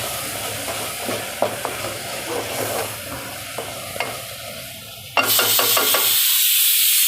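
Paneer, corn and spices are mixed in a pan with soft scraping and tapping over a low sizzle, then a sudden louder hiss bursts in near the end.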